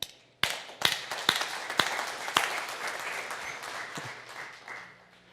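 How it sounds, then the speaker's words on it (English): Applause from a conference audience after a technical talk, starting with a few sharp individual claps and swelling into steady clapping that trails away over several seconds, fairly distant in a large room. "Give everyone a round of applause."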